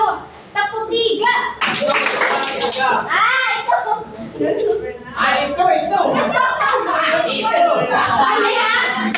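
Schoolchildren in a classroom clap along to counted patterns, bursts of quick hand claps in shifting groups, loud and close, mixed with a teacher calling counts and children's voices throughout.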